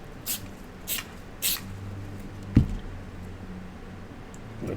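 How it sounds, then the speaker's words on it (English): Three quick, soft hisses of aerosol sprayed onto the back of a stencil near the start, followed by a low hum and a single sharp thud, with no talking. "let's spray a little bit of this on the back of here"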